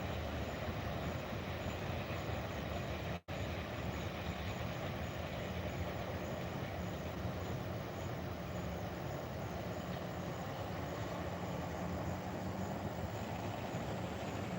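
CSX freight train cars roll past on railroad tracks about a quarter mile away, producing a continuous, even rumble and rattle that holds steady, broken only by one sharp momentary gap.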